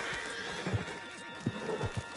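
A horse whinnies in a Wild West setting, with a few scattered hoof clops and thuds beneath a low background hum; no voices.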